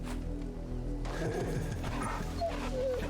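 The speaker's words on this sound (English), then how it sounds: "Pet the dog." A dog in Final Fantasy XVI whimpers and makes soft yips as it is petted, heard close over a steady low game ambience with no voices.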